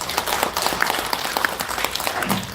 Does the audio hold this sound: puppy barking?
no